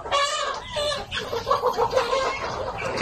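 Chickens on a breeding farm cluck nearby in short, repeated bursts, several birds overlapping in a busy, close chatter with brief pauses between calls.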